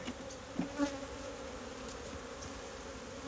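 Honeybees drone softly during a winter hive inspection, a faint steady buzz close by with a couple of brief louder passes near the start.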